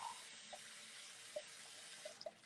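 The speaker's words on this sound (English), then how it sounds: "that's my water running." Tap water running into a sink, a steady faint hiss with a few soft drip-like clicks, close by and without talk.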